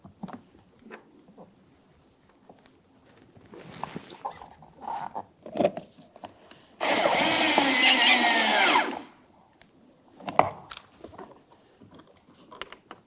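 Power drill driving an 8mm-head bolt on a 2006-2012 Ford Fusion front door during handle latch cable replacement, a single loud two-second whir between scattered handling clicks and rustles.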